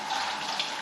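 Tap water runs steadily for under a second while apples are rinsed at a kitchen sink, a continuous close hiss with no talk over it.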